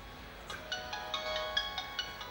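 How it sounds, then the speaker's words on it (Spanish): A mobile phone rings indoors in a short repeating melodic ringtone, a run of bright chiming notes in quick rhythm, moderately loud and alone with no talk. "Mi teléfono está sonando."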